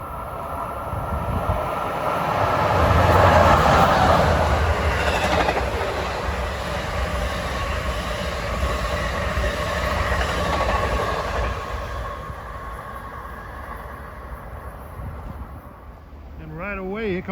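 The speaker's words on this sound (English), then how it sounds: "New York bound train, he isn't stopping." A New York-bound train rushes through New Brunswick, New Jersey without stopping, a loud close roar with wheel clatter that peaks early and then fades, while a person talks over it.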